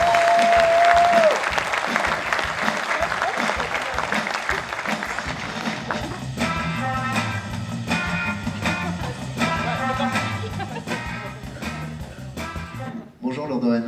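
Applause fills a convention hall, starting with a brief tone and continuing under loud music that swells in, steady and dense throughout.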